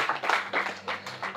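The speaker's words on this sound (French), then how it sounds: "on peut applaudir Maxence qui est venu" Audience members at a magic show clap for a volunteer, a brief, modest round of applause with a few rhythmic swells, fairly close and without talking.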